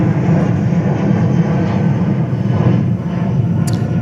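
A JetBlue jet airliner takes off at JFK Airport, its engines giving a loud, steady roar that holds throughout with no voices.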